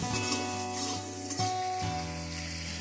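Cut potatoes sizzle steadily in hot oil with whole dried red chillies as they are stirred in a pan, a continuous close frying hiss with a few soft utensil scrapes.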